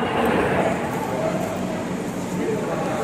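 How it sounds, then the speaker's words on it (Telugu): A double decker train rumbles steadily at a station or on the move, a broad continuous roar, while people talk nearby. "సో ఇదే డబుల్ డెక్కర్ ట్రైన్ అంట"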